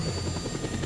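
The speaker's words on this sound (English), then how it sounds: "A helicopter now." A helicopter in the video game Just Cause 2 gives a loud, steady rotor drone and whine that runs close and continuous through the whole moment, with no speech.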